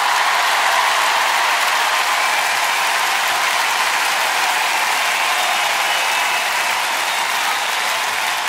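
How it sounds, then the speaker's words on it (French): An audience at a live stage show applauds the musicians, a dense, steady wash of clapping that fills the whole stretch at high volume with no pauses. "On vous demande d'applaudir tous les musiciens"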